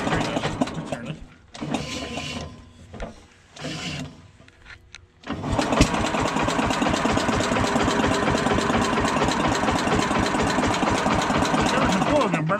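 Old Simplicity Landlord lawn tractor engine with its belt spinning: broken starts and stops with voices, then a steady, loud, rattling mechanical run.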